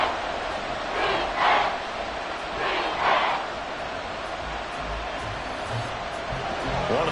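A football stadium crowd roars as play builds toward a big third down, with a steady wash of cheering noise that swells in a few brief surges.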